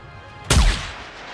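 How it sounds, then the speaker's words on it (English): A single loud gunshot from the NIKKE video game, a sharp close blast with a heavy low boom that rings out and decays over about a second, with no talk. "A single gunshot rings out as Crow collapses to the ground."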